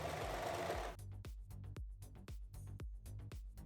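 A sewing machine stitches a crisscross zigzag on a denim vest, starting with a brief burst of noise and then running in quick, even mechanical stitch pulses close by with no talking.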